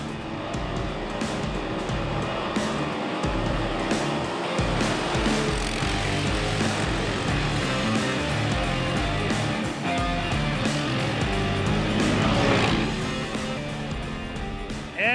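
A Honda Rubicon and a Can-Am Outlander ATV drag race side by side, their engines roaring loudly and steadily for the whole stretch as they accelerate down the track.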